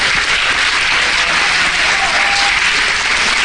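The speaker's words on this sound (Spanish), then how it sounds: "vamos a darle un aplauso, el Señor se lo merece" Church congregation applauds in a thick, sustained wash of clapping, even and loud from start to finish, with faint voices mixed in.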